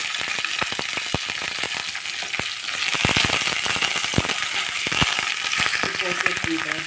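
Cumin, green chillies and curry leaves sizzle in hot oil as a tempering for brinjal chutney: a steady bright hiss dotted with sharp crackles and pops throughout, fairly close and loud.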